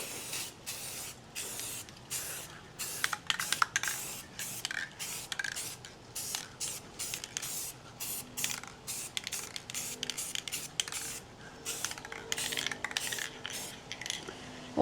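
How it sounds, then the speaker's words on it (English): Gold spray paint coats the hardware from a small mid-century modern children's dresser in a run of short, sharp aerosol hisses, each a second or less, separated by brief gaps. The bursts are close and carry no voices. "Hardware is spray painted."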